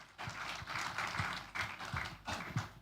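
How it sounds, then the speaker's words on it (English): A summit audience applauds its panel speakers in a fairly faint, uneven patter of hands, swelling and dipping in short bursts rather than a full steady roar. "Once again, a big round of applause for all the speakers."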